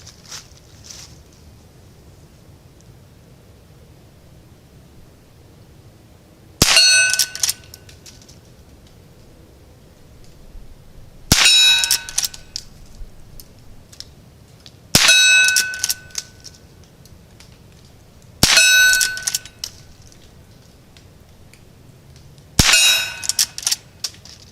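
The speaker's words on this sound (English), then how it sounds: "I'm shooting CCI quiet ammo" Henry Classic rifle shooting CCI quiet ammunition outdoors in open country, five separate sharp cracks with ringing metallic clangs spaced a few seconds apart, quiet background between shots.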